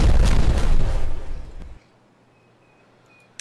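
A detonation in the Timberborn video game booms loudly and rumbles for under two seconds, then cuts off into near silence with faint tones and a small click at the end.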